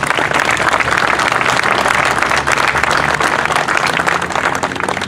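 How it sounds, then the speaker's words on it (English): Applause from a crowd for elected leaders at a veterans memorial plaza monument unveiling. Dense, loud clapping fills the whole stretch without pause, close and steady, with no voices above it. "let's give them one more round of applause, please"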